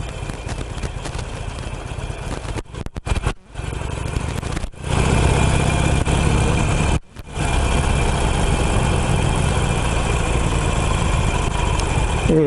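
A Harley-Davidson 883 motorcycle engine runs loud and close as the ride sets off, a rough rumbling idle that swells into a steady throaty drone, with a few brief dropouts.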